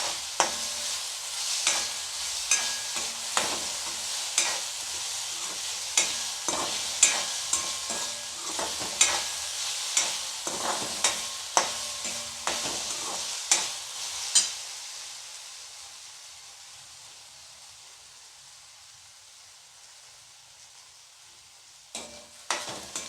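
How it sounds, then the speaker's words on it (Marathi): Grated potato and chillies are stirred in a frying pan, a soft sizzle broken by regular scraping strokes of the spoon. Later the strokes stop and the frying fades to a quiet hiss, with a couple of clatters at the end. "आता बटाट्याचा किस मिरच्यांमध्ये चांगला आपण हलवून घेणार आहोत."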